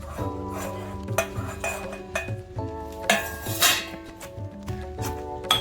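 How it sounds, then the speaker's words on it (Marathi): Green chillies pounded for chilli thecha, repeated rhythmic knocks of a pestle against a metal vessel with ringing clinks, close and fairly loud with no talking. "आपल्याला थोडंसं ठेचून घ्यायचं आहे"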